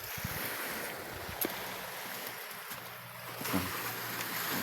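Sea waves roll in by the shore, giving a constant broad wash of surf with wind and occasional low rumbles.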